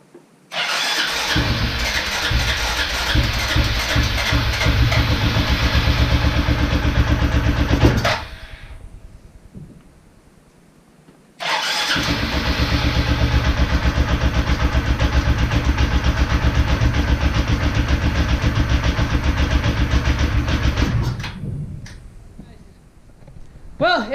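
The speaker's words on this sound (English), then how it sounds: "We could get it to start with the starter fluid, but then once that burned off, it would just sputter and shut off." An Arctic Cat 400 ATV engine cranks and sputters loudly up close in two long runs, each ending abruptly as it dies, with a quiet gap between them.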